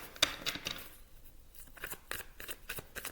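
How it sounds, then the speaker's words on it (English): A deck of tarot cards is shuffled by hand in quick, riffling bursts, with soft papery slaps and flicks close by and no talk. "Or me shuffling. I'm sure you can hear it."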